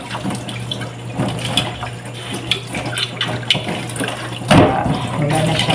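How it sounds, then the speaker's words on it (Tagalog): Tap water running into a lunch container at a home sink, a steady splashing stream under a low hum, with a brief louder gush near the end. "Lagyan natin ng tubig itong baonan niya guys."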